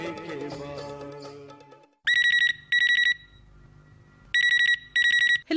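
On an Akashvani Chhattisgarh radio call-in request show, a telephone rings loud and close in two double-ring bursts separated by a quiet pause, right after a film song fades out.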